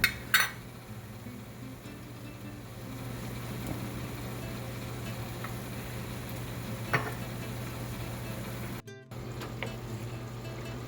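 Diced onions and salsa join cooked taco meat in a pan, setting off a continuous close sizzle with a low steady hum, a clatter at the start, a few light utensil taps and a brief break near the end.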